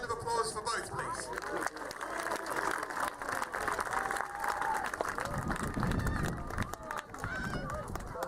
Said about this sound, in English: Ladies and gentlemen, a round of applause for both, please.